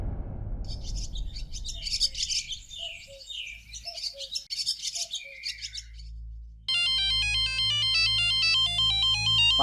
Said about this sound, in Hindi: माधुरी, तुम्हारा फोन है?